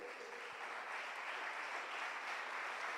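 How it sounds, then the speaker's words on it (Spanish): Faint, distant applause from a church congregation, a steady soft patter of clapping lasting the whole moment. "Dale un aplauso al Señor."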